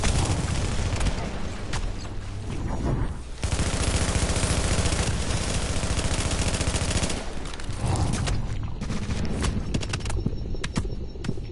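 Dense automatic gunfire in a video game, loud and almost continuous, with rapid bursts and booms. A short break comes near the middle, and a voice is heard briefly.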